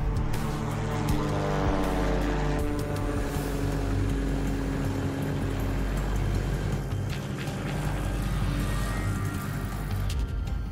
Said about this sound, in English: The engine sounds good though so far.